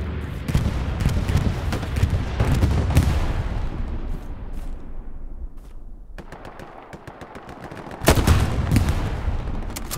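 Dense World War II-style gunfire from the game Hell Let Loose crackles in rapid overlapping bursts. It fades to a thinner patter mid-way, then surges back loud and close near the end.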